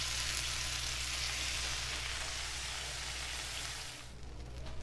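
Quesabirria tacos frying in a pan give off a steady, dense sizzle that crackles close up for several seconds, then drops off near the end. There is a low hum beneath it and no voices.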